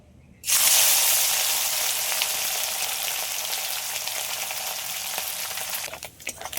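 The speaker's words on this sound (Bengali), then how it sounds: "চুনো মাছ ভাজতে গেলে তেলটা একটু বেশি গরম করে নিয়েই ভাজতে হবে।" Small chuno fish frying in very hot oil, a loud dense sizzle that bursts on suddenly and holds steady for several seconds before tapering, close by with no talking.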